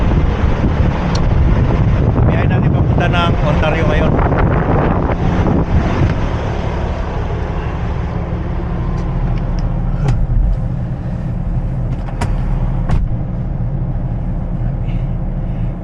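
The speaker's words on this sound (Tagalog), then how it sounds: "So yun, lakas ng hangin eh." Strong wind roars steadily into the microphone, a loud continuous rumble, while a person talks underneath it and a vehicle drones along.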